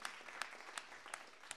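A small audience at a local live music show applauds the bass player, a faint, thin spatter of clapping with a few sharper claps standing out at regular intervals.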